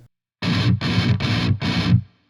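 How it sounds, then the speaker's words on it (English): Distorted electric rhythm guitar from a song plays four fast, evenly spaced triplet bursts, loud and alone, ending abruptly. "the rhythm guitar does 4 really fast triplets like this"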